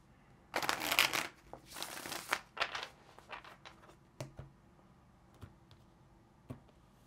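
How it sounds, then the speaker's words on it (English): Tarot cards shuffled by hand, starting with a couple of loud riffling bursts and then settling into scattered lighter taps and slides as the deck is squared, close and with no talking. "let's get one more shuffle"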